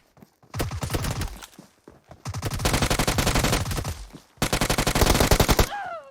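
Rapid automatic gunfire in PUBG Mobile, three long sustained bursts of loud, closely spaced shots separated by brief pauses, with little talk.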